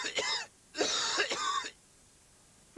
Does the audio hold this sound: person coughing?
yes